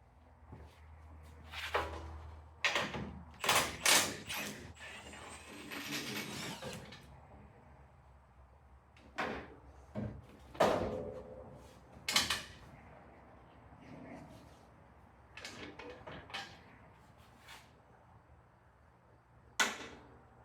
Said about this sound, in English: so now I can get that bumper off and get that fender off, hopefully